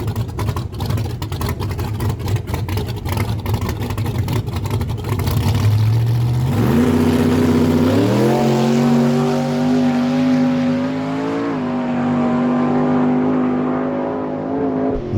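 A nitrous drag racing car makes a no-prep pass down a dragway: a loud, sustained engine roar with rapid firing, then a rising pitch as it shifts and accelerates, receding slightly toward the end.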